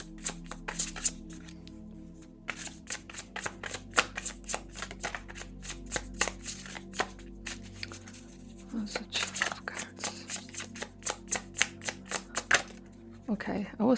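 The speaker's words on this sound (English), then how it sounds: "I'm not shuffling correctly, obviously." A deck of cards shuffled by hand, with rapid riffling flutters and sharp clicks in repeated bursts, sitting over a low steady background hum.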